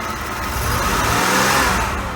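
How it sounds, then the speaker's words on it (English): An Oldsmobile Ciera engine misfires as it accelerates, a loud, close, rough revving drone that swells and wavers unevenly, with no voices. "That's how much the engine vibrates when you accelerate."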